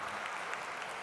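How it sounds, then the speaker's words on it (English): Audience applause at a conference luncheon, a steady wash of many hands clapping together at moderate volume for about a second, with no voices standing out. "let's have another big round, huge round of applause for them for their time today"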